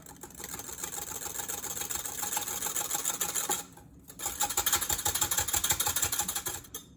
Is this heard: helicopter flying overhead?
no